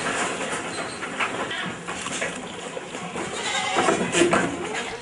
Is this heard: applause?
no